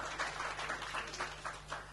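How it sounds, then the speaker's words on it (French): An audience applauds at a round table on the health of self-employed workers and liberal professions, a soft, continuous patter of many hands clapping, heard from a distance with no voices. "on peut les remercier et les applaudir encore"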